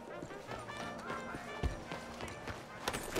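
Rhythmic clip-clop of horse hooves at a steady trot in Red Dead Redemption 2, in St. Denis at night, fairly close, with game ambience and a brief low thump midway.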